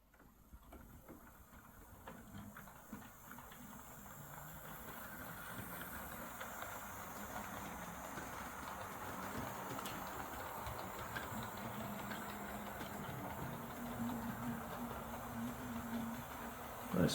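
A Hornby X04 model locomotive motor runs on track while hauling its tender and coaches, giving a continuous whirring hiss that slowly grows louder and steadier over the whole stretch.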